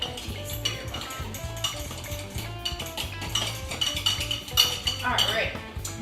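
A spoon stirs and scrapes through mashed banana pieces and muffin batter in a mug, with continuous soft clinks and scraping close up, while a voice talks over the stirring.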